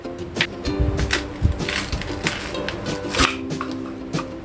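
Capsicum and cabbage being chopped with a knife on a board for homemade Chinese bhel, a string of irregular sharp cuts close up with no talking.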